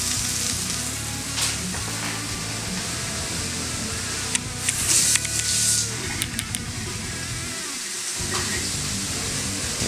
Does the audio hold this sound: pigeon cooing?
no